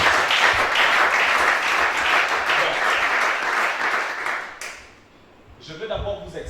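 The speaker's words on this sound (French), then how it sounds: "Acclame bien pour Jésus." A congregation at a prayer vigil applauds in a dense, sustained burst of clapping that fades out after about four seconds, followed by someone speaking.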